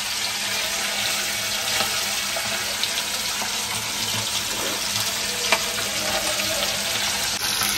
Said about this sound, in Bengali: এখানে মৌরলা মাছগুলো ভেজে নিই